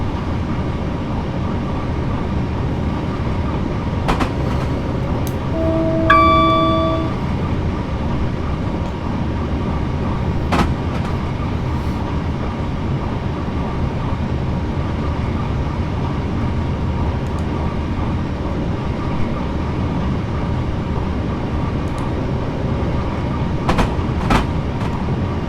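Train running in Train Simulator 2018 on the Waterloo to Portsmouth Harbour route, a steady loud rumble throughout with a few sharp clicks and a short series of rising horn-like tones near the start; no talking.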